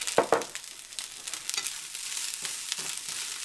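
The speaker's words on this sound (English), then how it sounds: "Let this kind of warm up all together for about a minute while I kind of stir it to make sure all my veggies are warming up." Leftover vegetable stir fry, seasoned with salt and pepper, sizzles in a pan as it is stirred, giving a steady close frying hiss with a few sharper scraping clicks of the utensil and no talking.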